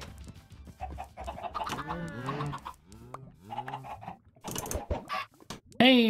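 Chickens in the Minecraft video game cluck in repeated bursts among many birds, moderately close. Clicking keyboard taps and other game sounds are scattered through, and a sharp louder noise comes at the end.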